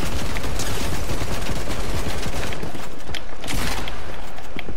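Light machine gun fire in Fortnite rattles continuously at close range, loud and dense rapid bursts of shots layered with game effects, with no talk over it.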